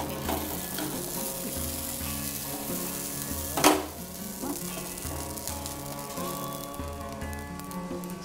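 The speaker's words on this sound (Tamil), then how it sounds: "இந்த பாப்பி சீடு பொரிஞ்சிச்சுன்னா போதும்" Poppy seeds roasting with cumin in a dry pan, a steady close sizzle and fine spluttering crackle with one sharper louder pop midway, no voices.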